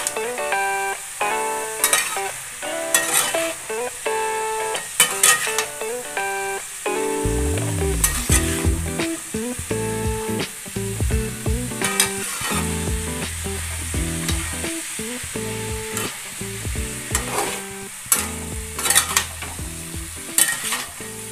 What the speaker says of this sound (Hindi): मसाला सब्जी सब डाल के भून रही हूँ